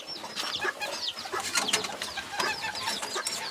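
Serama chickens clucking and chirping in a busy pen, a steady jumble of overlapping short calls from several birds, moderately close with constant background rustle.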